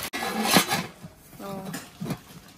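A stainless steel dhokla steamer is handled and opened, giving metallic clanks and a ringing clink amid soft shuffling, with faint voices in the background.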